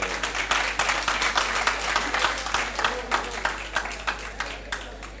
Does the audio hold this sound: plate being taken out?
no